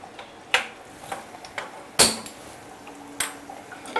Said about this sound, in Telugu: సో ప్యాన్ పెట్టాను